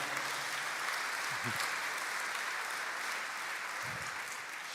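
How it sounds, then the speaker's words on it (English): Applause from a conference audience at an opening general session, a dense, even wash of many hands clapping, full and sustained, with a couple of brief voices rising underneath. "Give her a big round of applause for her help."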